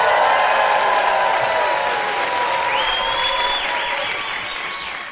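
A live audience applauds and cheers loudly, a dense wash of clapping and whoops that gradually fades over a few seconds.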